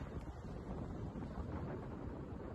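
Hot wind blowing on a 42-degree day during bushfires in Victoria, steady low rumbling buffeting against the microphone that lasts throughout, close and fairly loud, with no talking.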